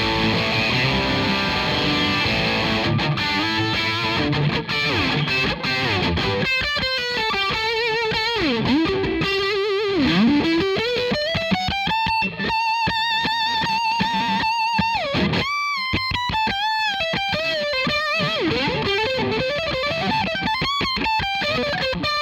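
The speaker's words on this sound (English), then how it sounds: "What about the little more heavy distortion from the lead channel on the Hughes" A Fender Stratocaster electric guitar plays through the lead channel of a Hughes & Kettner amp with heavy distortion, loud sustained chords giving way to bending single-note lead lines and squealing held tones.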